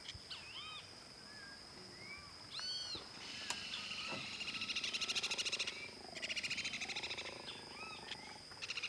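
A mating pair of jaguars, a male and a female, growl and snarl in a Brazilian forest in repeated rough rasping bursts over a constant background of insects, frogs and birds.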